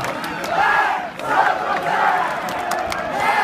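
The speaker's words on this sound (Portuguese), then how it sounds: "A torcida vibra." Football crowd in a stadium at a Santo André versus Rio Branco match, cheering and chanting loudly in rising and falling roars that carry on without a break.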